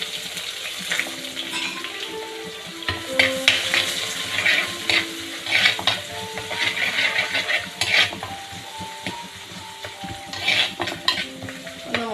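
Curry leaves with chopped ginger and garlic frying in a pan for a spicy fish curry: steady oil sizzle with repeated spoon stirring and scraping, close and fairly loud, with no talking.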